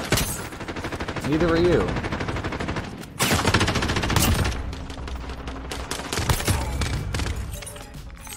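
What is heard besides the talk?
gunfire in a video game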